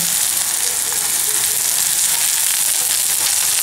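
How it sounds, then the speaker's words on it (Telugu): Onions and green chilies fry loudly in a pan, a dense steady sizzle and crackle filling the whole moment close up, with no voices. "ఉల్లిగడ్డ నార్మల్గా కొంచెం కొంచెం ఫ్రై అయ్యే వరకు మనం ఫ్రై చేసుకుంటూ ఉండాలి కలుపుకుంటూ ఉండాలి"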